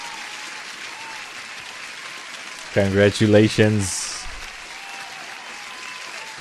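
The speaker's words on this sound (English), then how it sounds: "Let me give you an applause" Steady applause for a birthday runs through a live stream, moderate and even throughout, with a voice briefly speaking over it midway.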